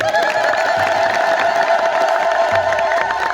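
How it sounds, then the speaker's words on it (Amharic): A crowd at an Ethiopian Orthodox church ceremony in Addis Ababa claps and cheers with sustained whoops and shouts, loud and continuous throughout, with a steady high-pitched cheering tone over dense applause. "ይህንን ጭብጨባ ልቀበለው።"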